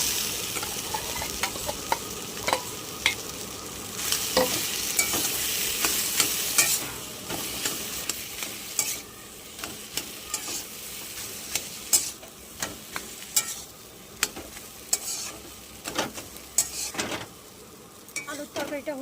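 Potatoes added to softened onion fry and are stirred in a pan, a steady close sizzle broken by repeated scraping and clinks of a spoon against the pan, with no voice.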